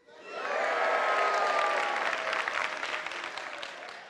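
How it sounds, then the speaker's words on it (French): A comedy-show audience breaks into applause that swells quickly and holds steady, a full crowd clapping with a faint tonal hum underneath. "N'applaudissez pas trop"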